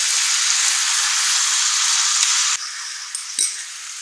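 Potato snack mixture with yogurt and red food colouring cooking over a medium flame in a pan gives a steady, close sizzle that drops in level partway, then a brief clink of utensil against the pan.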